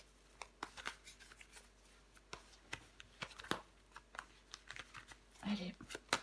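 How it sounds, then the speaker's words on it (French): Tarot cards being handled, turned over and laid out on a table, a close, soft run of irregular papery flicks and taps with light handling rustle, quiet throughout. "Allez, recouvrons des cartes."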